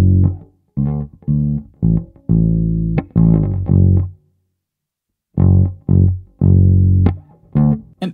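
Funk guitar through a Neural DSP Archetype Cory Wong amp plugin with heavy saturation, short punchy chords and muted stabs in a choppy rhythm, with a pause midway before the riff resumes.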